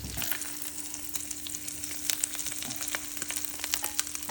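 Chorizo with cheese sizzles and crackles steadily in a hot pan, a continuous close frying hiss with small pops and no talking.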